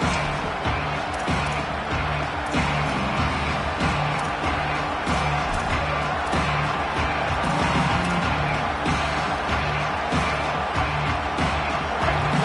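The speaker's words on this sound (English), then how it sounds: "Listen to this crowd just shaking the girders of this place trying to help their defense." Crowd noise fills a stadium in a Madden football video game, a steady loud roar with rhythmic chanting that holds for the whole stretch.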